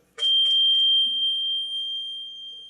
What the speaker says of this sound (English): here's the earthquake alarm right here